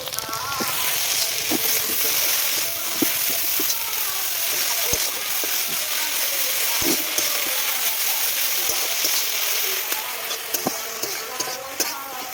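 Bottle gourd leaves fry in hot oil with salt and turmeric, giving a steady close sizzle broken by scattered clicks and scrapes of stirring.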